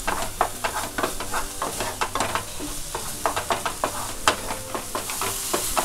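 Pompfret stuffing roasts in a frying pan with a steady sizzle, broken by repeated scraping stirs of a spatula against the pan, close and fairly loud, with no voices.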